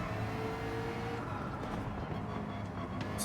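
BMW race car in Gran Turismo 7 at the Nürburgring Nordschleife, a steady loud engine drone with continuous tire and road roar throughout, no voices.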